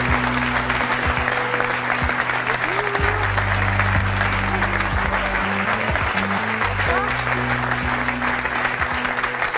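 A French TV studio audience applauds steadily for several seconds, dense clapping with a low hum of the room beneath it and a few faint voices.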